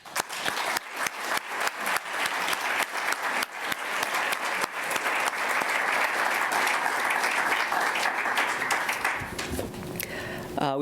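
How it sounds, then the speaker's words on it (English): A symposium audience breaks into applause: dense, sustained clapping from many hands that swells and holds, with some voices mixed in and a few clicks and rustles as it fades at the end. "So I'd like to give a great round of applause to everyone who presented today."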